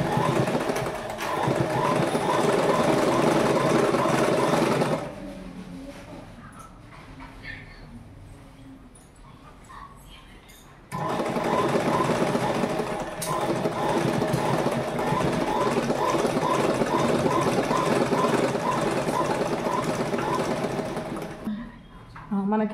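A sewing machine stitches a folded fabric belt strip for uniform shorts, running in fast steady bursts, pausing for several seconds of quiet handling, then resuming a long continuous run close to the microphone.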